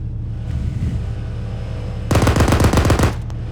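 Machine gun fire in a video game comes as a rapid burst of about a dozen loud shots emptying a magazine, following a few softer thumps and low engine rumble.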